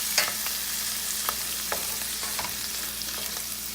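An egg scrambled and fried in a pan with other ingredients for a single-serving Chinese dish: steady close sizzling broken by sharp scrapes and stirs of a utensil against the pan, no voices.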